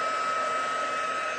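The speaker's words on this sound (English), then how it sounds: "just let the heat blow onto that embossing powder" A heat tool blowing hot air onto embossing powder gives a continuous, close, loud whirring blow with a steady tone, unbroken for the whole stretch.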